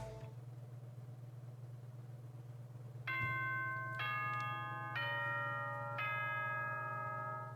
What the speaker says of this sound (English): I always dread hearing that bell.